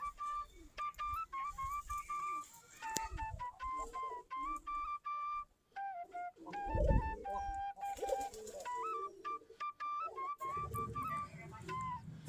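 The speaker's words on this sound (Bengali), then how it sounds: "আমাদের কবুতর" Pet pigeons near their loft coo repeatedly in soft, close calls, with occasional wing flutters and light rustling among them. Faint whistling-like bird notes also sound, with no talk.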